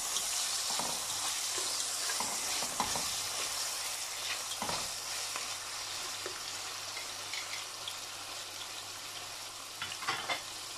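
Onions and tomatoes sizzle and fry in a pan for sinigang with salmon head, a steady close crackling hiss with occasional stirring clicks and light splashes, no voices.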